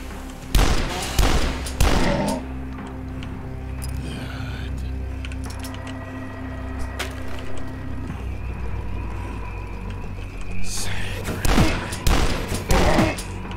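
Shotgun blasts in the retro first-person shooter DUSK hit hard in two clusters of several close, booming shots, one near the start and one near the end, with quieter in-game ambience and clinks between.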